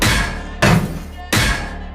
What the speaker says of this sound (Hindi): इन टायरों को हथौड़े से पीट पीट कर चपटा करना है